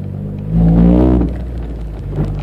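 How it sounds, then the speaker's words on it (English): A Honda car's exhaust runs through a large Ractive 510 muffler. It gives a brief, deep rumble that swells and then settles back to a steady low drone, heard up close. "But the muffler is a Ractive, I believe that's how you pronounce it. Ractive 510 something. It's massive. And it sounds awesome."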